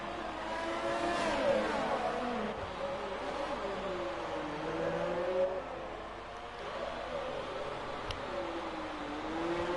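Racing car engines at a Singapore race, likely in a video game, whine and rev continuously, pitch rising and falling through gear changes as the cars hold speed, steady and moderately loud without a break.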